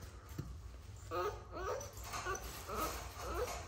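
A puppy whimpers and whines faintly in a series of short, high, wavering cries over a low background hum, fairly quiet and close.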